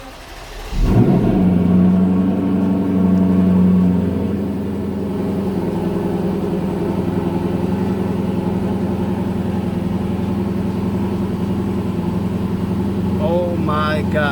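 A Lexus LC500 V8 cold-starts with a loud sharp flare, holds a high fast idle for a few seconds, then settles into a steady lower rumbling idle, close and continuous.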